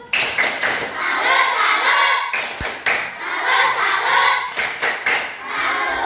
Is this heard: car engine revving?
no